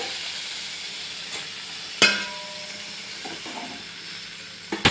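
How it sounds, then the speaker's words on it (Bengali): Spice paste frying in hot oil with water poured in, giving a steady close sizzle and hiss throughout, punctuated by a few sharp clatters and splashes. "মশলাটা তেল ছেড়ে দিয়েছে, দিয়ে দেবো পরিমাণ মতো জল"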